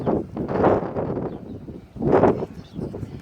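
Wind gusts roar across an open-air microphone at a scenic outdoor viewpoint on a road trip near Bonifacio, surging loudly in uneven buffeting bursts that swell and fade, with no voices.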